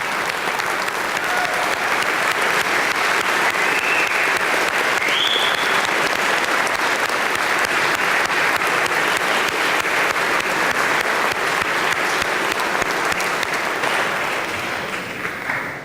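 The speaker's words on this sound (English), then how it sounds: "Could we please have a round of applause and a standing ovation for Eric Bugaile" Sustained, loud applause from a crowd filling a legislative House chamber during a standing ovation, steady throughout and tapering slightly at the very end.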